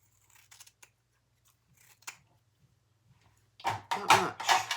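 Scissors snip through leather and zipper ends while a handbag is trimmed, a few faint close cuts at first, then a loud burst of quick crisp snips at the end, with a low steady hum underneath.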